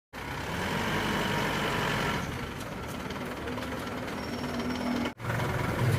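An Isuzu Panther diesel engine with a white-smoke fault revs loudly and steadily, eases back to a rough lower drone, then briefly cuts out before rising again.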